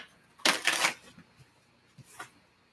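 A quick riffle of tarot cards being shuffled, close up, followed by a couple of soft taps and a lighter second riffle.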